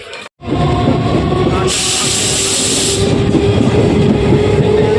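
A passenger train bound for Sealdah rolls along with a loud, steady rumble and rattle, and a bright hissing burst rises over it for a second or two.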